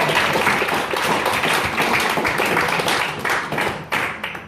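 Lively clapping from a crowd at an 80th birthday celebration, close and fairly loud, with individual hand claps audible in an uneven rhythm that thins out toward the end.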